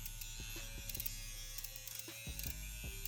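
A Linetion Sworder tattoo pen machine runs at 7 volts, giving a steady close electric buzz and hum throughout, with faint clicks as it is handled and no speech.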